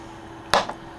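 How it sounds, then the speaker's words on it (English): Scissors snip through a plain loaf of dough in one quick, close cut, followed by a softer second snip. "you're going to take these scissors or your knife and cut it"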